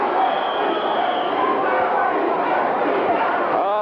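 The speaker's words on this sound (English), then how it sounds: "listen to this crowd getting on Orndorff and Pfeiffer's case" A wrestling arena crowd at a 1984 WWF match jeers Paul Orndorff and Roddy Piper, a continuous loud roar of boos and shouts with talk over it.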